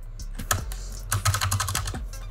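Computer keyboard keys clatter as a command is typed into a Minecraft warp mod, sounding as close, rapid bursts of clicks with short pauses, alone without talk.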